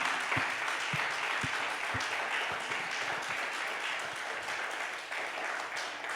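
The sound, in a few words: church congregation applause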